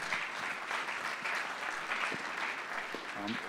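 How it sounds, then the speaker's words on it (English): Faint, distant audience applause for a speaker at a lecture, steady dense clapping with a brief voice near the end. "I would like a big applause for my friend Serge Plan."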